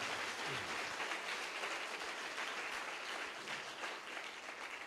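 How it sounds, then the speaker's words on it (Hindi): Church congregation applauding after a sermon, a dense, steady wash of clapping that fills the whole stretch without pause. "एक जोरदार ताली प्रभु के लिए हम बजाएंगे"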